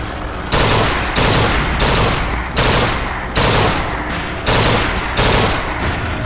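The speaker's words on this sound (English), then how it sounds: "sitting here shooting randomly off into the distance" Gunfire from a new weapon in the video game Bioshock Infinite, shooting off into the distance: a steady series of loud, heavy, evenly spaced shots roughly every half second, each blast dense and close, with no talking over it.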